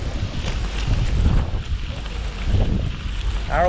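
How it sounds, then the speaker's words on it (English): Steady wind rushes and buffets the microphone as a headwind blows against a cyclist riding the Katy Trail past farmland on a sunny day, a continuous broad roar with no clear break. "the breeze is kind of keeping us cool. But it would be nicer if it wasn't a headwind"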